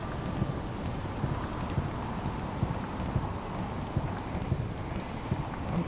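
Steady rain falls in the Morrowind video game, a dense, even hiss with faint low rumbles underneath, continuous and fairly loud for the whole stretch with no talking.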